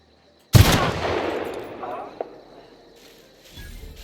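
Gunfire in the video game The Outer Worlds: one loud, close blast with a long rumbling decay, then a smaller sharp crack about two seconds later, fading under a low background.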